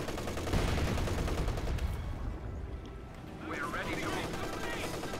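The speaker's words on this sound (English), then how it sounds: "Machine gun is out, though. My MG34, because the OKW doesn't have MG42s." Continuous MG34 machine gun fire in Company of Heroes 2, an OKW unit shooting in an urban battle, dense rattling bursts mixed with other battlefield gunfire, with a brief lull before the firing picks up again; someone talks over it.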